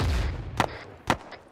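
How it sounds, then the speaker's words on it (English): Mortar rounds exploding in Arma III combat: two sharp, fairly distant blasts about half a second apart, set against a low background rumble. "Mortar."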